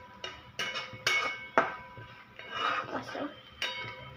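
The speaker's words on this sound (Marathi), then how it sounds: "सो असं हलवून घ्यायचं, तर थोडं फ्राय करायचं आपल्याला." Dried fish (sukat) frying in oil in a pan while being stirred, with intermittent metallic scrapes and clinks of a utensil against the pan, fairly quiet, with a voice talking at times.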